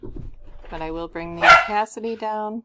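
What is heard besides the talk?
dog barking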